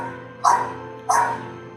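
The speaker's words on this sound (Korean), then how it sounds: "개는 짖죠." A dog gives two separate, sharp barks about half a second apart, close and clear over a quiet, steady background hum.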